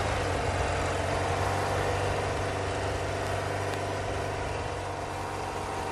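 A BMW R 90 S motorcycle engine rolls slowly, giving a steady, even low rumble that holds throughout with no voices.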